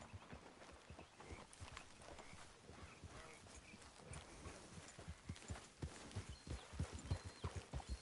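Steady clip-clop of horse hooves on hard ground, a brisk rhythmic gait growing louder and heavier toward the end, with faint ambient game sounds.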